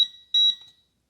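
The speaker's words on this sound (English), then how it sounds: "To turn it on, press and hold the button. You'll hear it beep twice and vibrate" A Garrett Pro-Pointer AT pinpointer gives two short, high electronic beeps as it switches on, clear and close, followed by silence.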